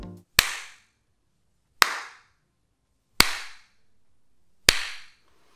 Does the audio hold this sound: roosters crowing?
no